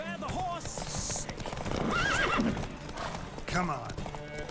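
Horses in a race in The Witcher 3 snort and whinny over rhythmic hoofbeats, loud and close, with a voice speaking briefly and game music underneath.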